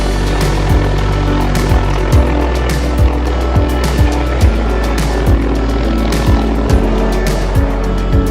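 Helicopter hovering near power lines during a seagull rescue, a loud, close, continuous rotor drone with a steady rhythmic blade thump repeating roughly every second.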